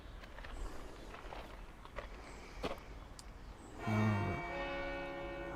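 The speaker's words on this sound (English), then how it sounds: "There goes the bells." A church bell by a medieval castle in a town starts ringing near the end, a sudden loud ringing tone after quiet outdoor ambience with a few faint knocks.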